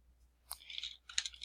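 A few soft keystrokes typing a user ID into a form on a computer keyboard, quiet and close, in two brief clusters with a pause between.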